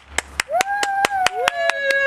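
Ten or so sharp claps in a steady, even beat, about four to five per second, close and crisp, with a sustained sung or hummed tone running over them.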